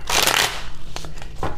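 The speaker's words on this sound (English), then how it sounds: "the cards want to mix up their orientation in the shuffle" A deck of playing cards riffles quickly, a brisk fluttering burst followed by a few lighter snaps and taps as the cards settle.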